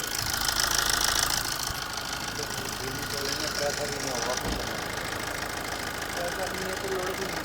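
A car engine idles steadily with a low rumble and slight knocking vibration while the air conditioning is switched off and on, and someone talks over it throughout.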